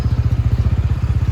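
TVS Ronin motorcycle engine running with a loose engine bolt, giving a rapid, steady, low rhythmic thumping rattle, close and loud with no speech.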